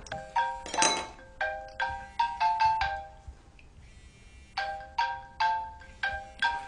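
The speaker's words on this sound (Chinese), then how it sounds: "你的电话。" A mobile phone ringtone plays a bright, repeating melodic phrase in short bursts, fairly loud and close, with no one speaking over it.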